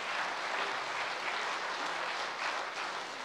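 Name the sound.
audience applauding themselves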